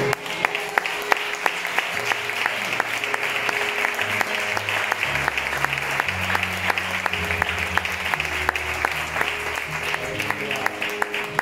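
A church congregation applauds loudly and continuously, a thick wash of many clapping hands filling the room, while low sustained organ or keyboard notes shift beneath it.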